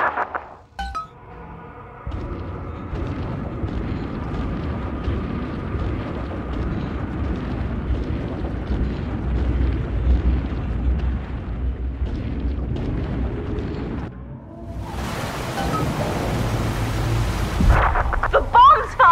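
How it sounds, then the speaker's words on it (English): Bombs blasting in BioShock 2 produce a long, loud roar of deep rumbling explosions with debris clinks, swelling into a harsh burst of noise near the end. "The bombs, Father! We're falling!"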